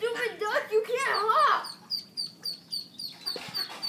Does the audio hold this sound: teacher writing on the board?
no